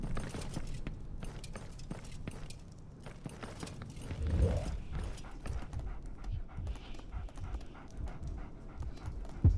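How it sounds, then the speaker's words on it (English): A dog pants in the Game of Thrones video game, with quick, breathy, steady huffs over a low game soundscape and no talk. "Get this flea-ridden mutt away from me!"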